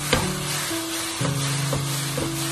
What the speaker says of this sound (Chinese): 开大火快速的给它翻炒一下，翻炒均匀，让所有的山药都裹满着番茄酱